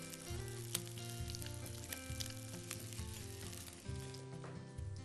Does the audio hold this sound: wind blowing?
no